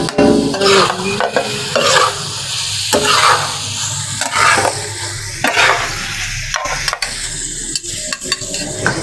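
Tawa keema sizzles loudly on a hot griddle as it is stirred and chopped, with repeated sharp metallic clacks and scrapes of the spatula over a constant frying hiss, close by.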